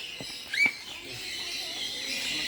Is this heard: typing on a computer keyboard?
no